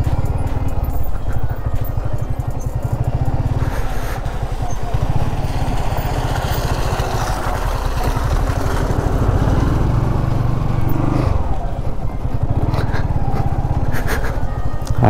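A motorcycle engine labours and revs continuously up close as the bike pulls through a muddy, slippery village road, loud and unbroken, with a brief change in tone near the end.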